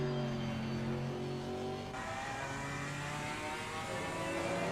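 A BMW and an Aston Martin GT4 race car at Laguna Seca in a sim racing game, their engines droning and revving steadily together with a shift in pitch partway through, loud and continuous.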